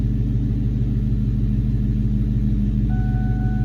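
A New Edge Mustang GT V8 idles at a stoplight, a close, steady, throbbing low rumble with an even pulse, and a faint whine enters partway through.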